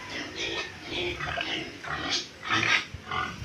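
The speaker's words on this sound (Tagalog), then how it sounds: "Hingi na ng pakain ng baboy." Pigs in a backyard pen squeal and grunt for food in repeated bursts, moderately close, with a few louder squeals near the end and faint background voices.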